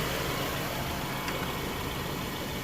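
A 2017 Subaru Forester engine idles steadily with the AC compressor clutch engaged, a continuous broadband hum and whir close by, with no one talking.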